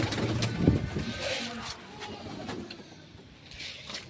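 Pigeons coo softly and repeatedly while being fed mixed grain, amid outdoor background noise with faint traffic rumble in the distance.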